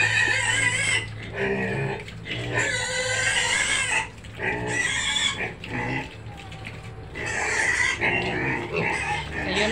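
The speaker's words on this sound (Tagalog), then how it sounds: "Sa Mama Pig" Pigs on a farm pen where piglets are being weaned from the sow, squealing and grunting loudly and almost without pause in repeated harsh bursts close by.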